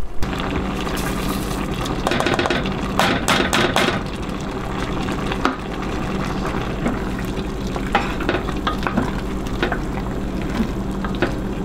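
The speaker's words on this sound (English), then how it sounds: "I'm going to add probably about another 1/4 cup of oatmeal" A pan of ground grass-fed beef and vegetables is stirred steadily with oatmeal mixed in, giving a close, continuous scraping and sizzling with a few sharper knocks of the utensil, no talking.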